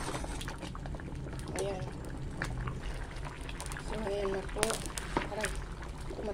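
Thick porridge of sticky rice bubbles and splatters in a pot on the stove, with gurgling pops and occasional sharp splashes throughout, while someone speaks quietly over it.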